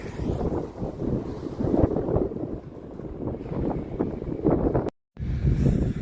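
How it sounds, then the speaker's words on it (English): Steady wind buffets the microphone in low rumbling gusts on a hilltop at an abandoned football ground in a former coal mining village, broken by a brief moment of silence near the end before resuming. "it's a little bit windy up here"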